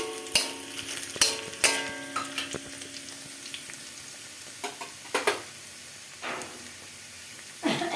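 Chopped garlic and slit green chillies fry in a pan for dhaba-style chicken 65 as a spatula stirs, with repeated sharp scrapes and knocks over a steady crackling sizzle.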